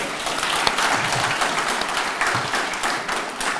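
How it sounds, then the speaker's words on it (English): A large crowd at a national small-business awards ceremony applauds steadily and loudly, dense clapping that holds an even level throughout without letting up. "Another round of applause, ladies and gentlemen."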